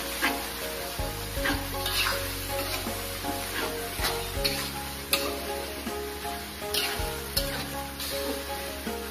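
Fermented shrimp (cincalok) hits a pan of sautéed spices for Kalimantan-style sambal and sizzles loudly and steadily, with occasional stirring scrapes and clinks of the utensil against the pan.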